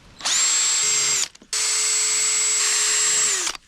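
A power tool with sandpaper works on an old, crusty headlight being restored. It gives two loud, steady high-pitched whirring runs, with a brief spin-down and restart between them.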